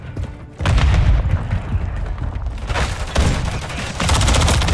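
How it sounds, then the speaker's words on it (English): Loud, booming grenade blasts and heavy bursts of gunfire in Call of Duty Modern Warfare 3 (2023) multiplayer, nearly continuous and close, with a fresh surge of explosive rumble part way through and again near the end. "Tossing grenade!"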